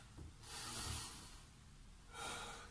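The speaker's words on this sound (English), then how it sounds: "Active rest now with our three breaths." Two deep breaths are taken during active rest in a children's and family exercise session. Each is a soft, airy rush close to the microphone, heard faintly against a quiet background.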